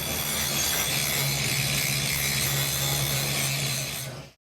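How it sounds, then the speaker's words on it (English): An angle grinder scrapes outdoor carpet off a porch with a continuous loud abrasive whir that runs steadily for about four seconds before cutting off abruptly. "We're on our third night of grinding here on the porch."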